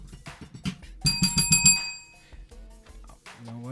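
A bell rings in a quick burst of about five bright, ringing strikes partway through, heard alongside people talking before and after.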